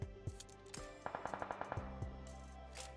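Gunfire from nearby buildings in PUBG Mobile: a few single shots, then a rapid burst of about ten evenly spaced rounds, and a couple more shots trailing off, loud and close.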